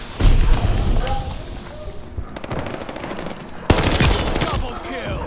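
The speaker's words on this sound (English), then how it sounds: "Get ready, mortar barrage is here." A mortar barrage pounds down in Call of Duty Vanguard, with heavy close blasts punctuating rapid gunfire and a continuous battle din, while a voice talks over the action.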